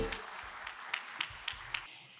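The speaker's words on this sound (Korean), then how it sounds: "여러분 큰 박수 부탁드립니다." Scattered applause from an audience at a Buddhist book-launch ceremony, a few distinct claps standing out over a soft, low background murmur.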